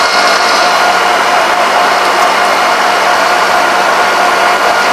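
Demagnetized electric generator running loud and steady, giving a constant broadband whirring hum with no break from start to finish.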